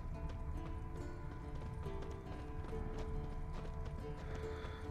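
Rhythmic hoofbeats of a horse clip-clopping along at a steady pace in the video game The Witcher 3, continuous and close, with a faint musical tone underneath.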